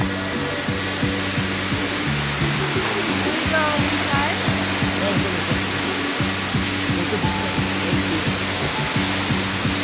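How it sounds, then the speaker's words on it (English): Wli Falls in Ghana, the biggest waterfall in West Africa, pours as a steady broadband roar that fills the whole clip, with faint voices and pulsing low sounds beneath the constant rush. "Biggest waterfall in West Africa."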